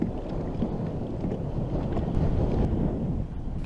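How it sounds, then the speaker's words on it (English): Steady wind buffeting the microphone out on a coastal grass flat during kayak fishing, a continuous low rumbling roar with faint water sounds, loud and unbroken. "I was going to let the wind push me across this grass flat"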